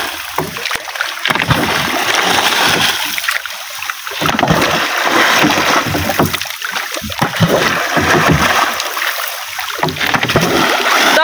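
Heavy, repeated splashing and churning water as a man plunges in to scare fish toward a net, loud bursts of sloshing and surging close by, with brief quieter gaps between the plunges.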